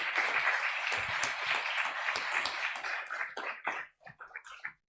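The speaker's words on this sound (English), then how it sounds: "I want to applaud these teams once more" Dense applause from an audience at the Solar Decathlon India finals, a steady wash of many hands that thins out into scattered claps near the end.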